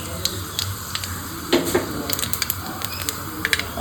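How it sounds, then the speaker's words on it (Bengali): Nigella seeds go into hot oil already used for frying native koi fish, producing a close crackling sizzle with scattered sharp pops and spatters that grow busier toward the end. "ওই একই তেলে আমি দেবো কালো জিরে ফোড়ন"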